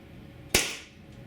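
A single sharp shot from a Tiberius T9.1 HPA airsoft carbine, a close, loud crack with a brief hissing decay in an otherwise quiet room.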